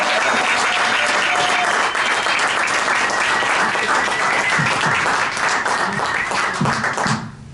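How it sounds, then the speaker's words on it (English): Loud, sustained applause from an audience at a celebration-of-life gathering for a comedian's introduction, thick and even throughout before tapering at the close. "Let's have a round of applause for Mr. Mark Breslin, ladies and gentlemen."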